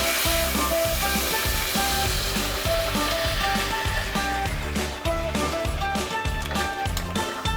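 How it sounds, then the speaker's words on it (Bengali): Hot water poured into a pan of cooking mutton, a loud continuous rushing splash and hiss over a low rhythmic background hum, with no voices. "অন্যদিকে আমি জলটা গরম করে নিয়েছিলাম, এবার এই গরম জলটা দিয়ে দেব।"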